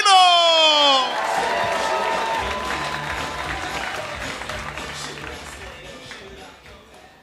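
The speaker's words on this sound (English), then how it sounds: "Start clapping. Build it up. Build it up. Nice and loud." A comedy club audience at a stand-up night claps and cheers loudly, with a whooping shout at the start, then sustained applause that slowly fades over several seconds.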